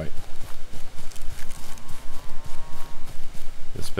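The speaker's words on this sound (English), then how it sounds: "Assume it's the cow I just heard." Cow mooing in the Robin Hood Sherwood Builders game, a drawn-out lowing call rising and falling over rhythmic background thumps, moderately distant.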